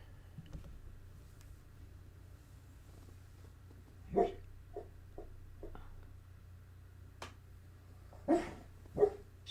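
A pet dog gives a few sharp, separate barks spaced several seconds apart, moderately close in a quiet room with a low hum behind.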